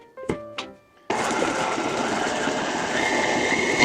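A stand mixer fitted with a paddle attachment creams salted butter and granulated sugar, starting with two short bursts and then settling into a steady, loud, continuous whirring churn that runs on without pause.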